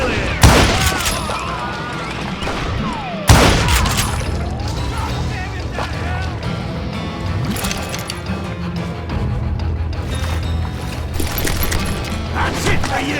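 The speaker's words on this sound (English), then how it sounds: "a fusillade of bullets come raining down from on high" A loud fusillade in the Call of Juarez: Gunslinger video game, with sharp gunshot cracks at the start followed by rapid, rattling bursts of gunfire and mechanical clatter under game voices.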